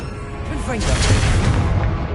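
A Confringo blasting spell explodes in a Hogwarts video game, a loud booming burst heard under overlapping shouted voices.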